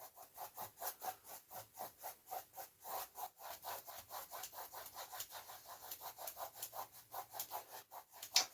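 A brush sweeps oil paint across canvas for a simple sky in quick crisscross strokes, a steady run of soft, close scratchy rubs at roughly three per second, with no voices.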